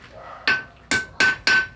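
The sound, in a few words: blacksmith hammer tapping on the anvil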